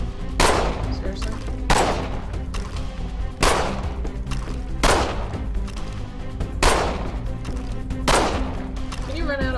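Gunfire in the video game Assassin's Creed III: sharp, loud shots ring out at regular intervals of about a second and a half, each with a decaying tail. A busy game soundscape runs underneath.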